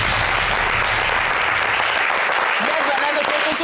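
A burst of enthusiastic applause from an audience, dense clapping that stays loud before a voice begins speaking near the end.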